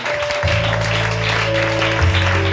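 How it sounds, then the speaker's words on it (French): A church congregation at MERED in Bingerville claps to acclaim the Lord during a service, a steady wash of applause layered over sustained keyboard or organ chords, fairly close and full, with no voices. "Je veux qu'on joigne les 2 mains et qu'on acclame le Seigneur."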